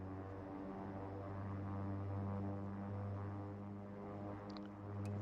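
Beechcraft King Air 350 turboprop engine runs steadily on the ground at about 1500 RPM during a ground idle stop check, giving a strong, even droning hum with a low tonal buzz, heard continuously and close.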